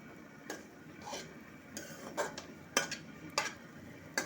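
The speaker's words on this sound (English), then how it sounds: "We have to keep on roasting it until it gets color." A utensil scrapes and taps against a pan as leftover roti is roasted and stirred over low heat for halwa, giving irregular clinks and scrapes over a faint, steady background, close and with no talking.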